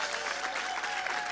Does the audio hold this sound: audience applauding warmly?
yes